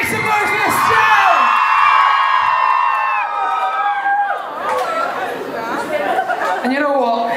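A concert audience cheers, with loud whoops and high shouted yells layered over crowd chatter that holds steady and full for the whole stretch.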